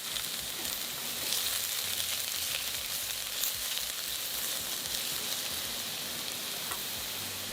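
Onion, garlic and ginger sizzle in hot oil in a wok, a steady close frying hiss with faint stirring scrapes, no talking.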